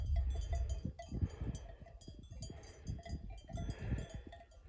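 Sheep bleat now and then across a quiet pasture as they graze in rainy weather, with soft rustling and occasional bell-like clinks in the background.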